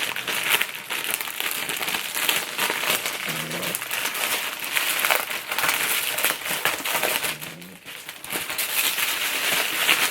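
Plastic, cardboard and paper packaging crinkling and crackling as a Kurt Geiger Kensington Rainbow bag is unwrapped, close-up rustles and crumples running steadily throughout with brief pauses.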